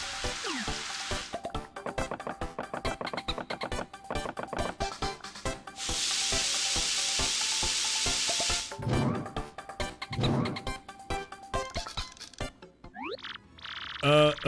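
Cooking a dried shroom and turtley leaf together in Paper Mario: The Thousand-Year Door, with sizzling and rubbing game effects, a steady noisy stretch midway, and chiming jingles near the end, under intermittent talking.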